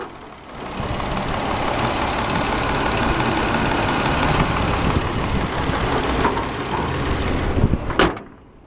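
A Toyota Sienna's 3.3-litre six-cylinder engine idles steadily and close up, a continuous broadband rumble held for several seconds, ending with a short sharp knock or thud near the end.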